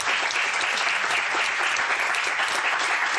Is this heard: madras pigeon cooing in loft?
no